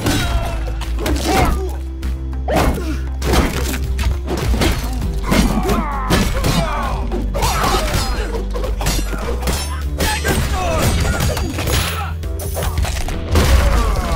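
Rapid, loud impacts of an earthquake attack in the brawler game One Finger Death Punch 2, dense repeated thuds, smashes and shattering crashes piling up over game music for the whole stretch.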